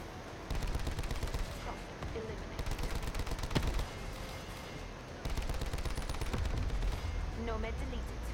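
Auger DMR rifle fire in Call of Duty Black Ops 4 crackles at low level among busy game sounds, with a series of sharp shots and some faint voices underneath.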